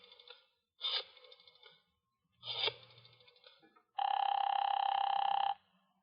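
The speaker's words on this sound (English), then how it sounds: "I'll dial extension 427 and see what happens." Telephone extension being dialed: a few short scraping clicks from a rotary dial, then a steady loud electronic tone lasting over a second, heard alone with no voices.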